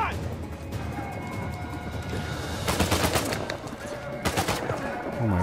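Bursts of gunfire in the Uncharted 4 video game during a prison escape, rapid volleys in two loud clusters over ongoing game noise, with players talking.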